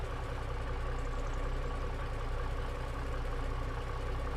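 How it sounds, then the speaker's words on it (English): A Cummins-engined truck idles with a steady low diesel rumble, unbroken and fairly quiet, in a modded farming video game. "this is the Cummins engine option in this truck. So I'm gonna turn it on now."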